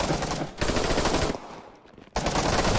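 Rapid automatic gunfire from AI-controlled soldiers in the military shooter Operation: Harsh Doorstop, loud and dense in two long bursts with a quieter lull between them, no talking over it.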